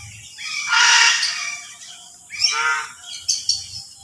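Loud squawking bird calls ring out in two long bursts, followed by a few shorter cries, close by with little else around, in a garden on a rainy day.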